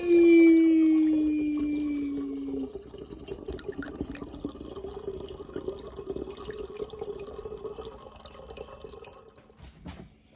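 Liquid pours into a batch of fudge cider being brewed, played back sped up, a steady gurgling stream with a falling whine at the start, then continuous trickling and bubbling until a clunk at the end, with no talking.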